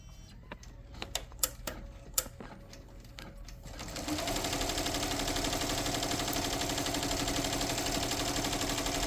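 An embroidery machine stitching an applique design: a few sharp clicks and knocks give way to a loud, fast, continuous mechanical whirring and needle chatter that runs steadily at close range.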